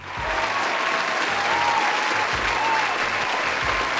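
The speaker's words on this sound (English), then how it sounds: "More applause, please." Sustained applause from a crowd fills the whole stretch at a steady, even level, dense and continuous with no voices standing out.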